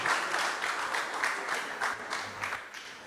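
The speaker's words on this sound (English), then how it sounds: "Another round of applause for him." Applause from an audience at a university convocation ceremony, a dense, even patter of many hands clapping at moderate volume, sustained throughout without speech.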